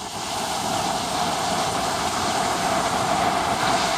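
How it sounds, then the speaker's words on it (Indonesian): A waterfall at Selendang Bidadari in Pati, Central Java, roars as a steady, dense rush of falling water, loud and unbroken throughout with no voices over it. "itu air terjun yang di bawah tadi guys"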